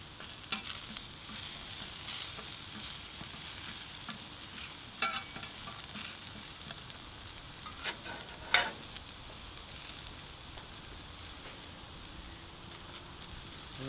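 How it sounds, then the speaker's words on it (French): Sweet potatoes frying on a hot plancha griddle give a steady soft hiss and crackle, with a few sharper pops and utensil scrapes standing out now and then. "la pomme de terre douce cuit très rapidement"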